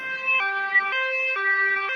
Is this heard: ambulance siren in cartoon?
yes